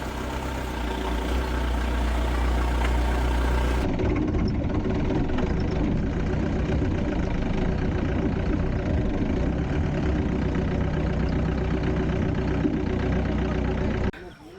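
A new jeep idles in a farm field, its engine giving a steady, close mid-to-low rumble that runs unbroken from start to finish.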